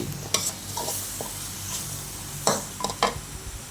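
Pork belly stir-fried with pea eggplants in a pan, a spatula scraping and clanking in several quick bursts over a low, steady sizzle, close up and without voices.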